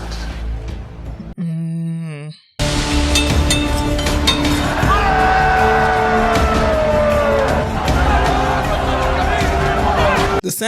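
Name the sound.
crowd in the arena in the film Gladiator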